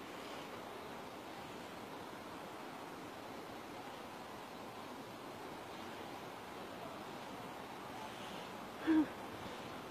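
Sekumpul waterfall in Buleleng, Bali, roars as a steady broadband rush of falling water heard from near its base, with one faint brief sound near the end and no clear talking.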